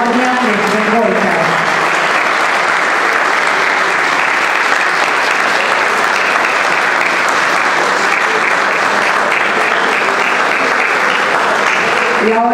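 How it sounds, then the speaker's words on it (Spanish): Loud applause fills a ceremonial flag farewell at an official ceremony, a sustained wall of clapping that stays strong throughout, with a voice briefly heard over it at the start. "Despedimos con un fuerte aplauso a la bandera de ceremonia de Revolta."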